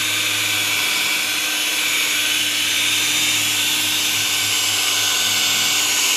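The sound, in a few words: electric drill used for polishing car bodywork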